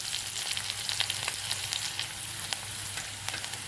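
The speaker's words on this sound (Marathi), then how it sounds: "त्यामध्ये मी मोहरी टाकली, त्यानंतर हिरवी मिरची आणि लसूण हे छानपैकी परतून घेऊ." Green chili and garlic sizzle steadily in hot oil with mustard seeds and a pinch of asafoetida, a close, even crackling fry with scattered pops and no talking.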